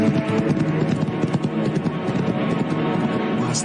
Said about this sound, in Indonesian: Kuda Andika memang luar biasa.